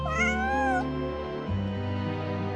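A cat meows in a long, bending cry within Genshin Impact, set over a steady game music backdrop, loud and close with no one talking.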